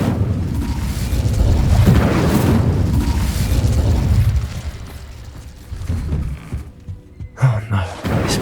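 Incendio fire spell cast in a wizarding video game: a loud, roaring burst of flame that holds for several seconds, then fades into softer rumbles and a couple of dull thuds.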